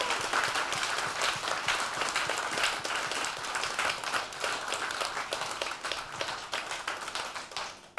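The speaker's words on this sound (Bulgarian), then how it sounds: "Моля за аплодисменти." Applause from an audience at a premiere of the novel "Lunno tsvete" welcomes its author, Katrin Di, onto the stage. Many hands clap close and crisply for about eight seconds, fading slightly toward the end.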